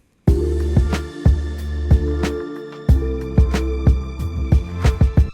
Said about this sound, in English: it sounded already kind of like old, nostalgic, but I added extra reverb